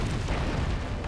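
A heavy, booming ship's cannon blast in the video game Anno 1404 Venice fills the whole moment, dense and rumbling without a break.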